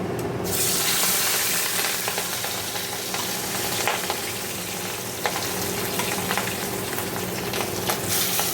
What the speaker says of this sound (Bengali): তো চলো মাছগুলো ভেজে নিই আগে।